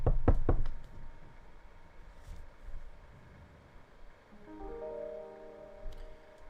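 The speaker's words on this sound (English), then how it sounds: "You go and answer the door, Siren" Several sharp knocks on a door in quick succession open the passage, loud and close, followed by quiet room tone and a soft sustained tone later.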